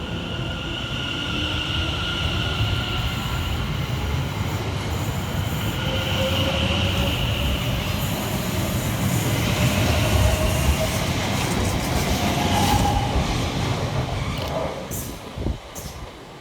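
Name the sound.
Class 710 London Overground electric train departing station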